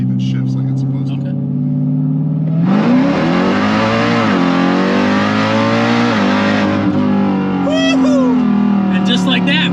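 A built-motor Jeep Grand Cherokee Trackhawk revs hard on a dyno held in second gear, its loud engine note climbing steadily, dropping at a gear shift, then climbing again, close and dominant throughout.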